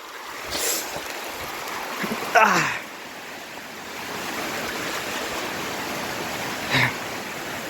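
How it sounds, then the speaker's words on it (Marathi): Steady broadband hiss of heavy rain pouring down on a farm, constant and enveloping, with a couple of brief louder knocks and rustles over the top. "पाऊस वाढलाय."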